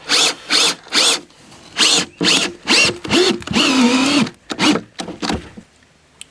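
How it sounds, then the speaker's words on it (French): A power driver sinks a heavy carpenter's screw into a wooden post at the base of a yurt-style frame, loud repeated bursts of whirring with short pauses, one longer straining run, then a few lighter pulses before it goes quiet. "Donc là on va visser donc notre vis de charpentier"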